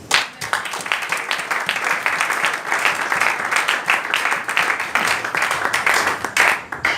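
A church congregation applauding together, dense sustained clapping from a crowd filling the room, loud and continuous with slight swells, no speech over it.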